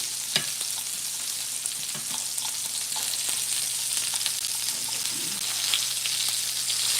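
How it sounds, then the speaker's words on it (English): Pork chops sizzle and fry steadily in a pan after being flipped, a continuous close crackle with scattered pops and no talking. "we're going to flip our pork chops and let them kind of finish cooking up on the other side"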